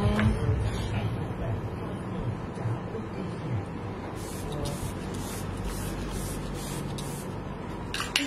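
Several quick hiss bursts from an alcohol spray bottle, each short and fairly close, over a steady room background during a makeup session.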